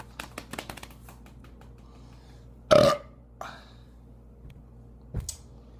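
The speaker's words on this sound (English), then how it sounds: "Oh, I really need to burp." A loud, drawn-out burp erupts midway, short and raspy, followed by a fainter second one a moment later and a small third near the end, against quiet room noise.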